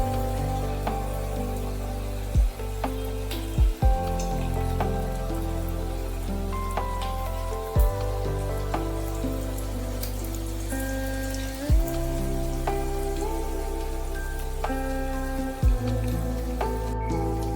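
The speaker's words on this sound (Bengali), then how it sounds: "গ্যাসের ফ্লেমকে সিমে রেখেই কিন্তু ভাজতে হবে।" Onion fritters (peyaji) fry in hot oil over a low gas flame: a steady, close crackling sizzle with occasional sharper pops and a faint constant tone underneath, and no talking.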